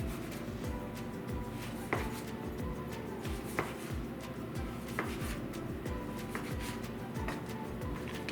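A knife slices through rolled sourdough cinnamon roll dough on a board, cutting it into thick pieces; steady soft cuts with a few sharper knocks, close and fairly quiet, with no voices.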